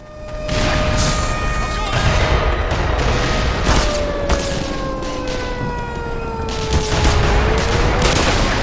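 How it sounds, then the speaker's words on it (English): Rapid gunfire aimed at the player in the video game Black Mesa, loud bursts of shots over a steady background din with a wavering siren-like tone, repeated across the whole stretch. "Where am I being shot from?"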